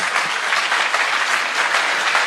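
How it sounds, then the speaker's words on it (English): Audience at a regional Open Government Partnership meeting gives a steady round of applause, dense and continuous clapping filling the hall throughout. "Please give them a round of applause."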